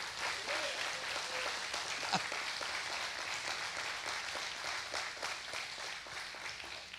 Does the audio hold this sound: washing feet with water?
no